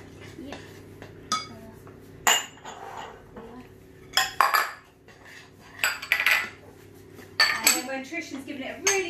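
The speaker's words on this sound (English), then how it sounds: "giving it a really good stir." A spoon stirs brownie mixture in a bowl, scraping and clinking against the sides in irregular bursts, close and fairly quiet, with brief pauses between strokes.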